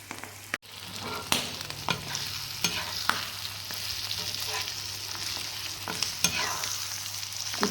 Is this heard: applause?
no